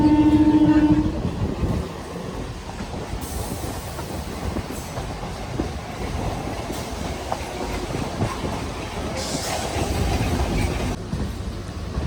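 A local train on the Howrah–Digha line runs near Tikiapara station, its rolling rumble and wheel clatter steady throughout, with a brief louder tone at the start and faint background voices.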